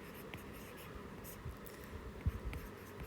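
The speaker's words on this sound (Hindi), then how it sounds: "बिल्कुल पेज के मिड में लिखना है आपको ये। यहाँ लिखेंगे" Pen scratching across paper while a formal tender notice is handwritten, a faint, steady, close scribble with a few slightly louder strokes near the end.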